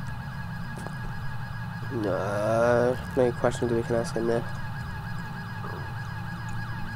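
Steady police sirens in the video game GTA 5 with the LSPDFR mod wail in the background while people talk over them, with a continuous drone underneath.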